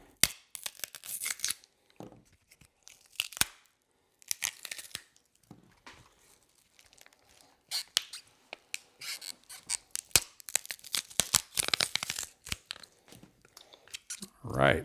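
Celery stalks snapped and twisted close to a shotgun microphone to mimic bones breaking: bursts of sharp crisp cracks and wet crunching tears, irregular and fairly quiet, with pauses between snaps.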